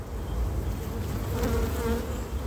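Honey bees at an open beehive hum in a steady, dense buzz, with many insects droning close by without pause.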